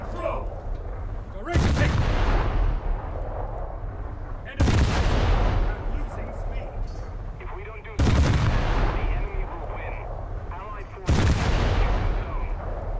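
Heavy destroyer guns boom in a naval warfare game, four loud broadside salvos spaced a few seconds apart, each with a long rumbling decay, with a faint voice talking in between.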